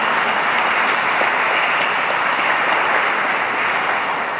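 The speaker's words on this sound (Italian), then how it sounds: "Possiamo anche fare un applauso," Italian congregation applauding newly ordained Franciscan deacons at an ordination Mass, loud dense clapping held evenly throughout, with no voices over it.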